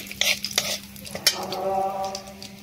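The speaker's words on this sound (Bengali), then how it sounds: "এবার এই তেলের ওপরে হলুদ গুঁড়োটা দিয়ে দেবো" Turmeric powder hits hot oil in a pan while cooking a vegetarian mustard pointed gourd dish, giving a bright crackling sizzle with scraping and clinking of a metal spoon stirring, close and alone.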